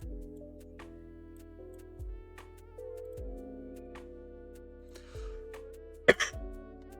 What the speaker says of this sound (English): Sorry for coughing so much on stream.